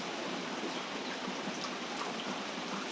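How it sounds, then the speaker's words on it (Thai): Steady rain falls outdoors while bamboo shoots are pickled, a continuous even hiss of drops hitting surfaces, fairly close and unbroken throughout. "เพราะว่าฝนมันตกพี่น้อง"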